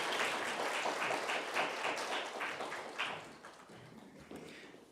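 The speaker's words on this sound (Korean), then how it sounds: "다시 한번 축하의 박수로 힘을 주셨으면 좋겠습니다" A church congregation gives celebratory applause at an Easter service, with loud, rhythmic group clapping that fades toward the end, then a brief final clap.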